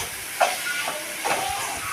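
Spices and turmeric sauté in a pan for a kurma, a steady close hiss of frying broken by a few soft scrapes of stirring.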